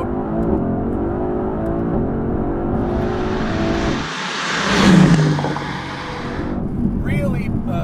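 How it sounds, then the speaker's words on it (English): A 2020 Mercedes-AMG GTC roars loudly at close range through a launch with a burnout, the engine note rising and surging with tyre noise as a voice talks over it. "Big burnout."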